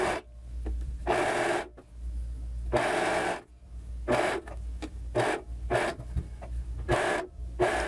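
A sewing machine runs in bursts of steady whirring stitches along a folded strip of polka-dot tulle, each run lasting about a second and stopping between passes, with no talking.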